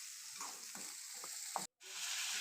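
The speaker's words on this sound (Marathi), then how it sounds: "आमची मम्मी भाजी फोडणी घालत होती" Potato and vegetable tempering frying in hot oil in a home kitchen, a steady close sizzle with a few crackles, briefly cut to silence near the end before resuming.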